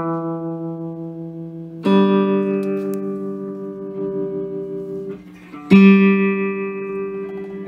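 An electric guitar rings through a restored 1964 Gibson Skylark amplifier: a few clean, sustained chords struck one at a time and left to decay, with warm tone and no talk.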